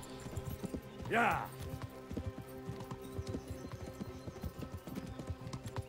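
Horse hooves clip-clop steadily in Kingdom Come: Deliverance, a medieval setting, with a whinny rising briefly near the start over game music and a short spoken exclamation.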